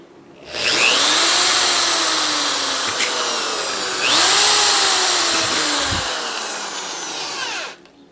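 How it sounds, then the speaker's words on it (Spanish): Power drill boring small holes for a homemade TV antenna made from cans, two loud whining bursts close up, the motor pitch dipping as the bit bites before spinning down. "voy a hacer entonces 2 barrenitos acá"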